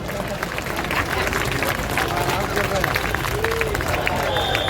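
Steady crowd clapping and hubbub fills an outdoor election rally in Sarita Vihar, Delhi, with applause running throughout under scattered voices and a speaker's talk.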